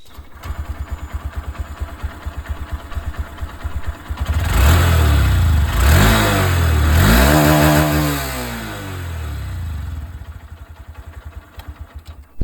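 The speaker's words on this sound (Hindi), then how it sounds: "अब मैं आप लोगों को यहाँ पर जो SP125 है इसकी भी आवाज़" A Honda SP125 motorcycle engine idles with a steady putter, then revs up loudly several times through the exhaust before settling back to idle.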